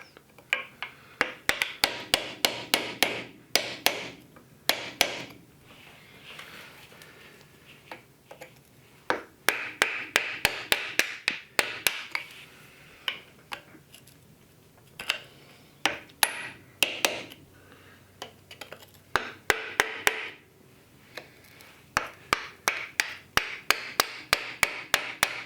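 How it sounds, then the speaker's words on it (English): Hammer striking an old sacrificial chisel wedged into a Dana 30 axle from a Jeep CJ7, sharp metallic blows in rapid bursts of repeated strikes separated by short pauses, loud and close. "old sacrificial chisel that should wedge down in there possibly, and so we can get this thing worked out"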